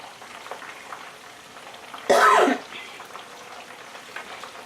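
A stick of butter drops into a hot pot and sizzles in one loud, short burst lasting about half a second, then fades back to a quiet room.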